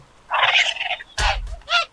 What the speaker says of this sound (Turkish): Hindi bana saldırıyor oğlum